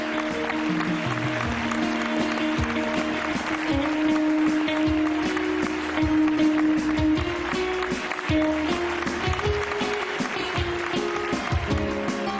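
A studio audience on a Pakistani television game show claps to welcome Javed Sheikh, producing sustained, dense applause over tonal background music.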